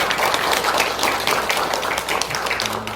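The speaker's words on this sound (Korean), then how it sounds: "박수로 좀 환영하겠습니다." Congregation applauding to welcome a man during a Sunday morning church service, steady dense clapping throughout at moderate loudness with no one speaking.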